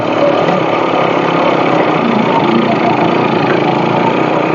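A motorcycle engine runs steadily and loud throughout while riding over a rough, bumpy road, a constant close drone with no pauses.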